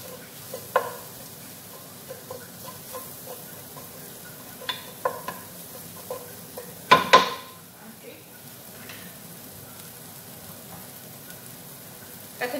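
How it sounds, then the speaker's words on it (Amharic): Spoon stirring fried onions into partly boiled rice for Arab-style chicken and potato biryani, soft scraping and light sizzle with scattered clinks and one sharp louder knock of utensil on pot midway. "ቀጥታ አድርጌ እዚህ ጋር ሽንኩርቱን እጨምራለሁ ቅድም የጠበስኩትን ማለት ነው"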